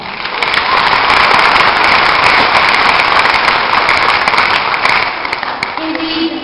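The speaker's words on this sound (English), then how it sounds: "Let us all give ourselves a round of applause" A high school graduation audience breaks into sustained applause, a loud, continuous roar of many hands clapping that holds steady and fades slightly at the end, with a voice briefly heard near the close.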